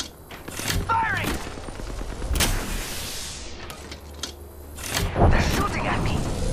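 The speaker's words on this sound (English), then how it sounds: "They're shooting at me." Bursts of automatic gunfire and heavy shots ring out in the video game Apex Legends, loud and layered with mechanical clatter, while a voice talks over the battle.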